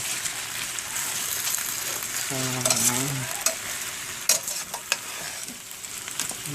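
Steady sizzling of food frying in a pan, with a brief low hum partway through and a few scraping stir sounds near the end.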